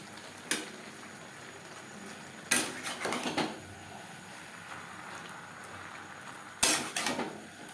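Chicken being mixed with capsicum and carrot in a bowl for momo filling, three separate bursts of spoon-on-bowl clatter and scraping spread across quiet stretches, no voices.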